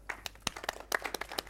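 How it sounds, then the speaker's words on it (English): Sparse clapping from a small tech conference audience, a handful of quick, scattered claps across about a second and a half, moderately near and fairly quiet. "Now you should clap."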